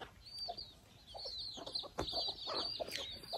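Backyard chickens waiting to be fed cluck close by, a busy overlapping stream of short clucks and chirps with a faint high whistle-like tone running behind them, and no one speaking.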